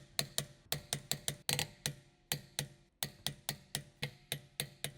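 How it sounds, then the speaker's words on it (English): Torque wrench clicking as it tightens the front wheel lug nuts on a 2004 BMW 325ci E46 through a 17mm deep socket, a steady run of sharp close ratchet clicks in quick pairs and bursts with short pauses. "Using the 17mm deep socket with the torque wrench, tighten the front wheel lug nuts."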